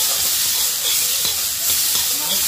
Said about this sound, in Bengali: এই যে ভুট্টাগুলো এখন ভেজে নেব